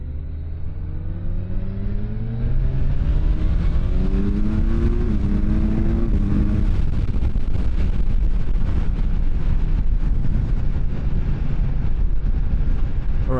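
A Kawasaki Ninja 1100SX motorcycle engine climbs in pitch through several gear changes with a clumsy shift action, then settles into a steady loud rumble with wind buffeting as it cruises in sixth gear.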